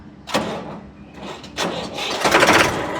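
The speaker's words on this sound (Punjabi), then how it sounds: "ਤੁਹਾਨੂੰ ਟਰੈਕਟਰ ਦੀ ਸਟਾਰਟਿੰਗ ਸਟੂਡਿੰਗ ਚੈੱਕ ਕਰਾਉਣਾ ਇਹਦੀ ਬਹੁਤ ਵਧੀਆ ਸਟਾਰਟਿੰਗ ਆ" A Massey Ferguson 1035 tractor's diesel engine cranks and then catches with a loud, rough burst close by. A couple of clunks come before it, and it runs on unevenly.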